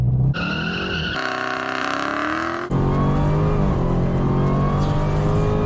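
A Dodge Challenger SRT Demon launches from a standstill, its engine roaring loudly and climbing through rising revs with a sharp break at a gear change, then pulling hard and close with a continuous heavy drone.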